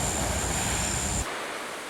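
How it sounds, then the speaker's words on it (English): Ocean surf on a Florida beach on the east coast, a steady, loud wash of breaking waves with wind noise that cuts to a quieter roar partway through. "Beautiful ocean."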